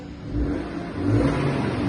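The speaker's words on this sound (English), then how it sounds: "You might just be able to hear the little slight improved note on the exhaust" A BMW 435d Gran Coupe engine idles and revs gently nearby, its low, steady, near-stock exhaust note swelling slightly partway through.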